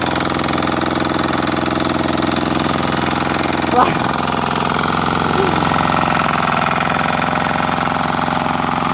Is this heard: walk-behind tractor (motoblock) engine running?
yes